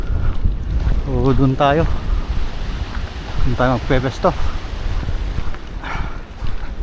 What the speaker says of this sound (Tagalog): mayroon na rin hangin